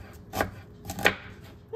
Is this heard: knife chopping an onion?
yes